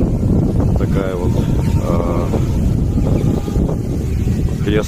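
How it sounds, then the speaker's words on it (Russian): Strong wind buffets the microphone outdoors by a church in the Moscow region, a loud, steady low roar that lasts throughout, with a person talking faintly underneath. "Сильный ветер опять поднялся."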